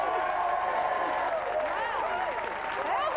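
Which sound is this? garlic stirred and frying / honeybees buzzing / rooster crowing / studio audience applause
studio audience applause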